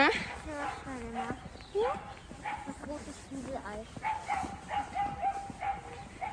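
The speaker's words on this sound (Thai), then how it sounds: "เสียงหมา" A dog barks repeatedly outdoors on a morning walk to school, with sharp yaps scattered through the moment, partly mixed with people talking nearby.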